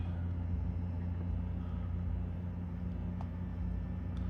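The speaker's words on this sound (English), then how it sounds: "definitely sounds like a heat pump to me" A heat pump runs inside a newly bought car, giving a steady low droning hum with a constant mechanical tone. It stays even and continuous throughout, with a few faint clicks above it.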